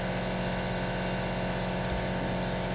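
A Chief Professional Air Needle Scaler 57171 running continuously close by, a steady loud pneumatic buzz and rattle of hammering needles with no pauses.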